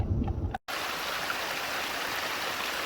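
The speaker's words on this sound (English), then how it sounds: "Here we have a snow-covered river and waterfall." A snow-covered mountain river and waterfall rush steadily, a continuous broad hiss of flowing water heard close and alone after a brief break.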